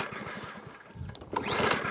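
A Stihl FS40 string trimmer engine runs with a buzzing, uneven two-stroke drone that rises in pitch and loudness partway through, heard up close.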